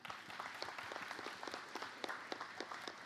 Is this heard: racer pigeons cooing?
no